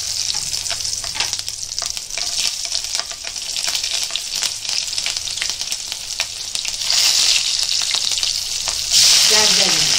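Whole garam masala and green chillies sizzle hard in hot oil, a loud, crackling fry that spits and pops throughout, with stirring scrapes and a brief rise in intensity near the end, for a Konkani-style keema.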